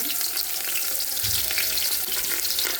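Cinnamon, cardamom, cloves, bay leaf and onion fry in a wok with a loud, dense, continuous sizzle and crackle, close up and with no voices.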